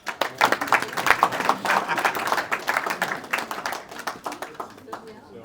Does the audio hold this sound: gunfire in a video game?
no